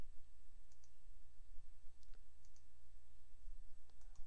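Computer mouse clicks while setting up a project in development software, a handful of sharp, close, isolated clicks spread irregularly over a faint steady hum.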